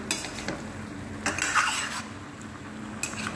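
A spoon scrapes and clanks in a pot while kidney beans are stirred and mixed, giving a few close metallic knocks and a short scraping swirl over low kitchen noise.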